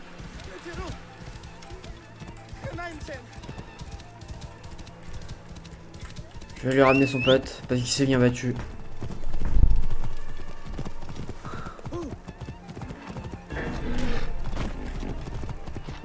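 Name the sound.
horse galloping in a video game (Assassin's Creed, Egypt)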